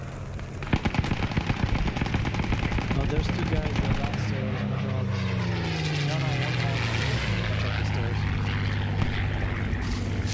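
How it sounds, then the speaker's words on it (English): Enemy aircraft in the World War II game Post Scriptum, a loud propeller drone with a falling pitch sweep as it passes, mixed with dense gunfire bursts and heavy radio chatter throughout. "Break, be advised, enemy aircraft."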